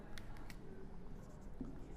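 An equation being written by hand, scratchy pen or chalk strokes in short bursts against a quiet background, close and faint.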